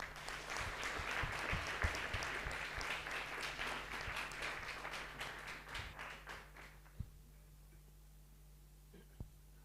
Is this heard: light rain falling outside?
no